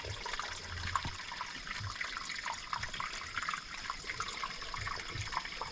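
Water flowing in a brook beside a hammock campsite, a continuous babbling trickle with small splashes and gurgles, moderately close and steady.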